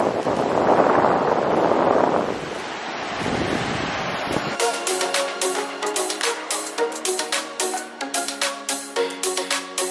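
Surf rolls onto an empty Sri Lankan beach, a loud washing roar blown by wind across the microphone for a few seconds before it gives way to a different rhythmic tapping sound.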